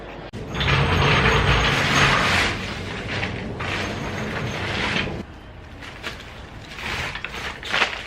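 Ratchet wrench working on the bumper bolts of an Acura RSX during bumper removal, a dense run of mechanical clicking and clattering that is loud early on, then continues at lower level with scattered sharper clicks.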